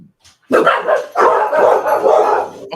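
A dog barks loudly and close in a run of harsh, sustained barks and yelps that nearly fill the moment, with no talking over them.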